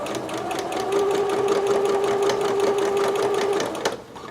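A sewing machine stitches steadily over basting on a garment, its fast, even mechanical whir and needle clatter running continuously for a few seconds before stopping abruptly near the end.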